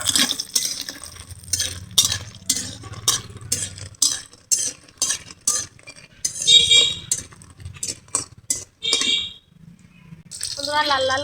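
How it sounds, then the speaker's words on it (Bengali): Lentil dumplings (bori) fry in oil in a pan for a shrimp and Malabar spinach dish, with repeated scraping and clinking stirs and a soft sizzle, while a person talks at intervals. "লাল লাল করে বড়ি ভেজে নিচ্ছি"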